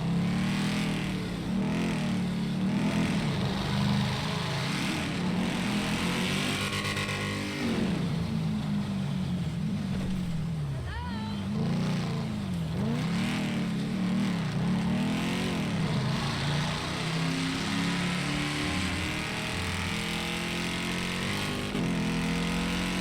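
A motorcycle engine in a video game revs and whines continuously, rising and falling in pitch, loud and close, with game-like background noise throughout.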